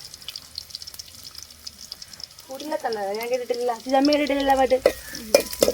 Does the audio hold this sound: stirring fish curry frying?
yes